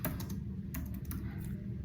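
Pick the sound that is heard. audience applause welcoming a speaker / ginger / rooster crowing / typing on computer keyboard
typing on computer keyboard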